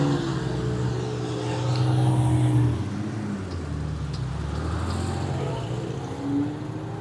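A blue turbocharged car engine revs in a sustained, moderately loud roar that swells and eases, with a broad wash of background noise around it.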